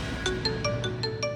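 A mobile phone rings indoors with a quick, evenly spaced series of bright electronic tones, soft and steady, with no voices over it.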